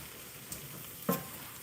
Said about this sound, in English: I'm going to give my onions a nice stir.